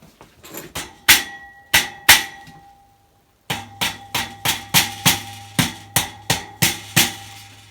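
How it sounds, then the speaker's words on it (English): Sharp mallet taps knock storage parts into place, ringing out one at a time, a few spaced strikes, then a steady run of about a dozen evenly paced knocks, each with a brief metallic ring. "We'll definitely have to tap them down with the mallet."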